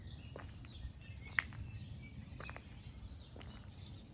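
Morning birds chirping outdoors, a few short scattered tweets and calls at moderate distance over a low steady background rumble, no talking.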